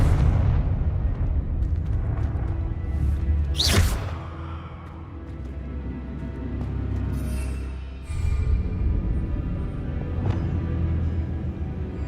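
A Confringo fire spell bursts in Hogwarts Legacy, a sharp loud blast with a rushing flare that fades into a low rumble, set against steady ambient game noise.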